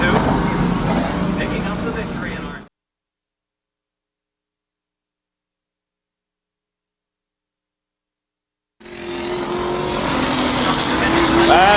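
Late model race cars at Midvale Speedway during a heat race, a loud continuous engine roar with a long silent gap in the middle before the engines return, rising and whining.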